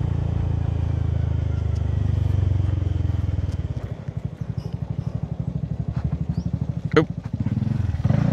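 A Honda Forza 300 motorcycle engine idles and then putters past a checkpoint, its low rhythmic exhaust pulsing close by, with a person talking over it and a brief sharp click near the end.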